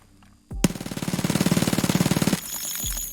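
A .45 ACP Vector in Escape From Tarkov fires one long, rapid full-auto burst of about two seconds, each shot crisp and closely spaced, then the sound cuts off and a short tail rings out.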